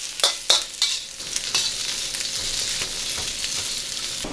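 Onions stirred and frying in a pan, a steady hiss of sizzle with a few sharp scrapes and clicks of the utensil near the start, continuing alone without talk.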